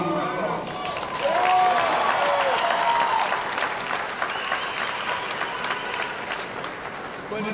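An audience applauds at a high school football state championship celebration, steady clapping that swells after a second and holds, with a few faint voices mixed in.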